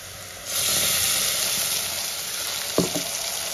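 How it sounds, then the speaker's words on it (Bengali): Tomato, green chili, garlic and ginger paste hits hot oil in a pan, bursting into a loud, steady sizzle that holds close and continuous, with a brief clatter of stirring near the end. "এবার আমি দেখো টমেটো, কাঁচা লঙ্কা, রসুন, আদার একটা পেস্ট যে বানিয়েছি, ওই পেস্টটা আমি"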